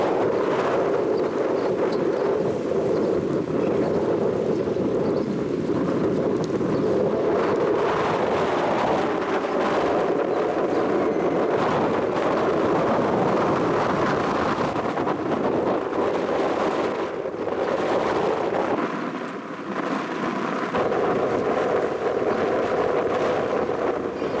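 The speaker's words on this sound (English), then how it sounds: "it's seriously windy today" Strong wind roars steadily into the microphone at Hales Bar Dam, a dense continuous buffeting rumble with gusty swells and no voices.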